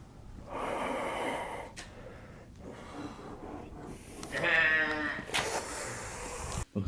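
A goat bleats several times in rough, wavering cries, close by, with snorting and breathy sounds between calls.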